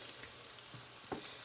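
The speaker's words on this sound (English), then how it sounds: "They're frying up nicely." Potato pancakes fry in a pan with a soft, steady sizzle and faint crackle throughout, plus one brief louder spit near the end; no one talks.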